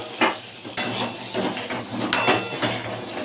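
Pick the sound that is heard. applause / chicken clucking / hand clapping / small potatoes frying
small potatoes frying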